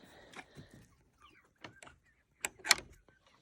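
A backyard chicken coop door creaks open on a quiet morning, followed by scattered clucks and a short squawk from the hens and rooster inside, close by with brief pauses between sounds.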